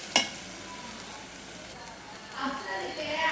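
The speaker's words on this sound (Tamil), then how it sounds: "இப்போ மசாலா ஃபுல்லாக சேர்த்தாச்சு. இது நல்லா வதக்கி விட்டுடலாம்." Masala sautéing in a pan for chicken biryani, opening with a sharp clatter, then a low steady sizzle that swells louder in the final second.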